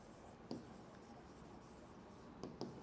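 Chalk or marker writing on a board during a physics lesson: faint, short scratchy strokes in a quiet room, with a few sharper taps at the start and end.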